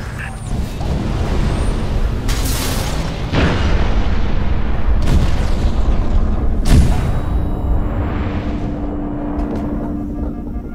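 Artillery strike explosions in Halo: Reach land in a rapid series of four or five heavy, close booms over a constant loud rumble of battle noise, followed by a rising whoosh as the barrage fades.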